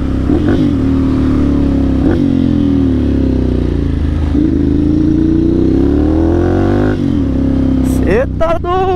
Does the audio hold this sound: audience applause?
no